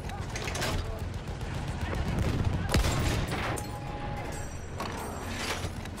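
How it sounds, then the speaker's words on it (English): Rapid, crackling machine gun fire in the World War I shooter Battlefield 1, dense bursts of shots amid battlefield noise and a sharp report near the middle, with voices calling out in the background. "Da, ein Maschinengewehr."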